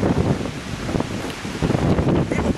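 Gusty wind buffets the microphone in broad, rumbling bursts that rise and fall over a couple of seconds, loud and close, with no talking.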